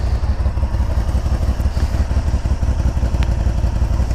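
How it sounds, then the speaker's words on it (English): A 2013 Harley-Davidson RT Limited motorcycle idles with an odd-sounding exhaust, a steady low rumble with rapid, slightly uneven pulses that carry on close and loud throughout, with no voices. "That exhaust sounds really strange on this thing."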